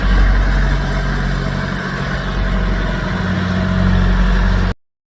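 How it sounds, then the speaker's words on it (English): A yellowish tractor engine runs steadily nearby, a loud low rumbling idle with a slight rise in effort partway through before cutting off abruptly. "I thought it was a yellow tractor."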